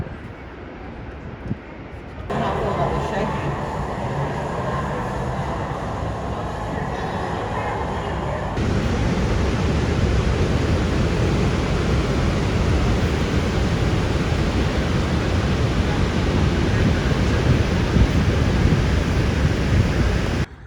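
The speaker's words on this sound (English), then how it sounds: "Hey, look, it's a waterfall. It's a big waterfall." A big waterfall at an amusement park in Canada roars as a broad, steady rush of falling water that swells louder partway through and stays constant and near.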